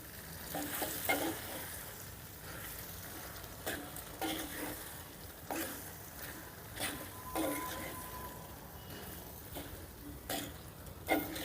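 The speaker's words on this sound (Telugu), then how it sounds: "ఇప్పుడు ఈ మొత్తాన్ని ఒకసారి బాగా కలిపేసుకుందాం" Eggplant and potato curry with green chillies and salt is stirred in a pan: repeated scraping strokes over a soft, continuous sizzle, fairly quiet and close, with no voices.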